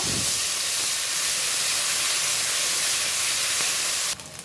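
Ginger hitting hot oil in a pan while cooking a vegetarian cabbage dish, giving a loud, steady hiss of sizzling that holds evenly and cuts off near the end.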